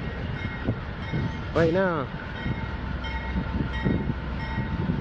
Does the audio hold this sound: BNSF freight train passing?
yes